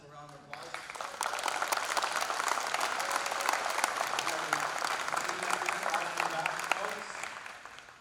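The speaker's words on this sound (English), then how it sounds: "Rod Hartman and Ian Simpson, please stand, so a round of applause." A signing ceremony audience gives a sustained round of applause, dense steady clapping that starts abruptly, holds for about seven seconds, then tapers, with a few voices murmuring underneath.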